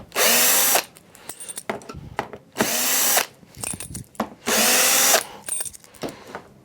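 Power drill whirring in three short bursts of about a second each to back out the retaining clips on a picture frame, close and loud, with small clicks and handling noises between bursts.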